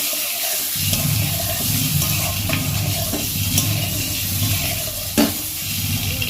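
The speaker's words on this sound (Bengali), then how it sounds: "স্বাদ মতন লবণ, হলুদ গুঁড়ো দেব, দিয়ে ডিমটাকে ভেজে নিতে হবে।" Eggs seasoned with salt and turmeric fry in hot oil, giving a continuous close sizzle with faint bubbling and one brief clink near the end.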